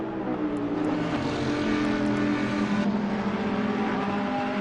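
Ferrari GT3 race car engine at Monza in a racing video game, a loud sustained high-revving whine with shifting pitch that holds steady and close for several seconds, with no talking.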